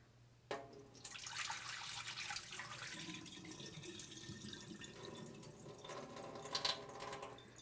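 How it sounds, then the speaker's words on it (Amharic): Soaking water poured off bula (enset starch) into a sink, a steady splashing pour lasting several seconds after a sharp start, with a few louder drips near the end. "ስለዚህ አሁን ውሃውን ስለማልፈልገው አፈሰዋለሁ።"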